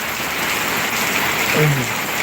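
Cyclone storm with heavy wind and rain roars as a loud, steady wash of broadband noise throughout, with no distinct gusts or drops standing out.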